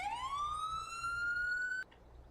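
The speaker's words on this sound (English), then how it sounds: "It does actually come with a siren as well" A police car siren in a Farming Simulator mod winds up in a single rising wail and then cuts off abruptly, loud and clean with no talking.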